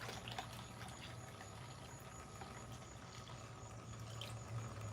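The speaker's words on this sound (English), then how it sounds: "So we're going to just fill that back up and let it pour back through." Water poured through a homemade filter of pebbles and rocks trickles in a steady, low wash that lasts throughout, with a faint engine-like hum beneath.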